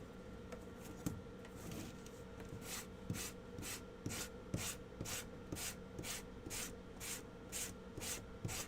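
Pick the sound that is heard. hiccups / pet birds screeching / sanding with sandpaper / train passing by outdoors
sanding with sandpaper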